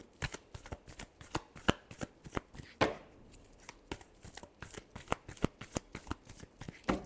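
A deck of tarot cards is shuffled by hand, close and crisp, with rapid flicking riffles and taps in an irregular rhythm and a brief bridging flutter midway. There is no talking.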